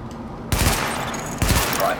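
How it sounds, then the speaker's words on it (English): Gunfire at highlighted targets in The Division video game comes in two sharp bursts of rapid shots, each starting abruptly and fairly loud, with a quiet gap before the first. "Open fire at the highlighted targets."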